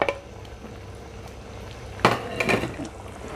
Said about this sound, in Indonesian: Ini kuahnya sudah mendidih